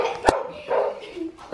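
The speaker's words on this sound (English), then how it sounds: "Socks, you are really, really pissing off those dogs out there. They are barking like crazy because you're in the house" Dogs barking outside a house, a couple of muffled barks at a distance amid indoor room sound.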